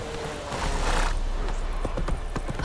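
Roach, a horse in The Witcher III, gallops with rapid rhythmic hoofbeats that grow distinct and near toward the end, preceded by a brief whinny amid game ambience.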